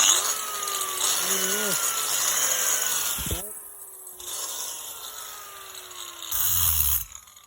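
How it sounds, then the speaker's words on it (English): An angle grinder cutting stone for a fireplace whines steadily and close up, its pitch drifting as the blade bites. It briefly drops out once, and a voice is heard faintly. "work one way with the grinder, because the blade wants to go that way, you've got to chip it"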